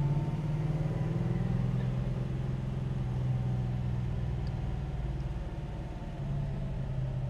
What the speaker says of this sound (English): We're running through the gears here a little bit.